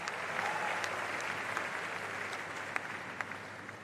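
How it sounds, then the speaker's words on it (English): Sustained applause from a crowd at a career fair, a dense, even patter of clapping heard at moderate distance with a few sharper claps standing out. "make that applause louder"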